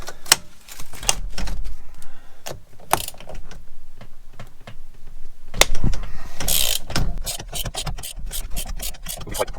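A ratchet with an M12 spline socket works a steering wheel bolt on a VW Transporter T5, giving close, crisp rapid clicking in repeated bursts with brief pauses and clunks between strokes.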